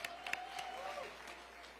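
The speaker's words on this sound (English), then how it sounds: "Let's give them one final round of applause." An audience at a Vision Zero safety honor roll reception gives a brief round of applause, the clapping fairly faint and distant in a large room and fading out within two seconds.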